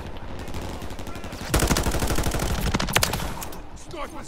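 Rapid automatic fire from an M13C submachine gun in Call of Duty, a steady rattling stream of shots that grows louder and denser halfway through, with a few sharper distant bursts mixed in.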